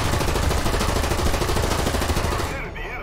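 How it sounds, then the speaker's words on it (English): Machine gun fire in a WWII video game, a loud, continuous rapid burst of shots close by that runs for over two seconds and then cuts off. "If I can find him with my machine gun."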